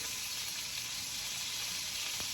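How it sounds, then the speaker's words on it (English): Meat searing in a hot pan, with fat being rendered, gives a dense, steady sizzle that runs the whole time without a break, close and fairly loud. "Sear it up, baby. Sear it up. Get all sides."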